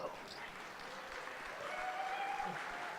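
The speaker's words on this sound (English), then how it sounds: "please give him a round of applause" Conference audience at DefCamp applauding a speaker, continuous clapping from a crowd filling the room, with a faint voice audible beneath it.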